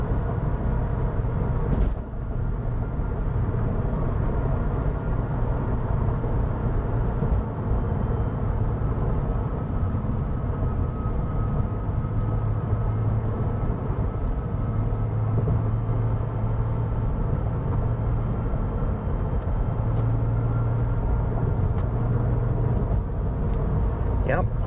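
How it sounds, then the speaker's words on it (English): Porsche 996 fitted with a 4.1L Hartech engine with ported heads, cruising in sixth gear onto a highway; a steady, smooth low engine drone with road rumble runs throughout, with brief talk at one point. "we're just going to use sixth gear to cruise on up onto the highway"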